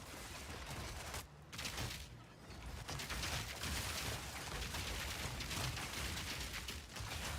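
Mercenary gunfire in Path of Exile 2 rattles in dense, continuous bursts mixed with grenade blasts and mechanical clatter, loud and busy throughout with brief dips.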